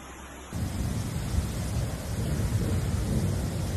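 Thunder rumbles low and continuously through a heavy rainstorm in Rome, a dense roar of rain and deep rolling booms starting abruptly and holding steady, no voices.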